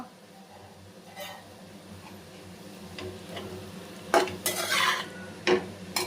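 Cabbage fry stirred in a pan with a utensil, soft scraping and occasional louder clinks of metal against the pan, growing busier toward the end, with a low background hum.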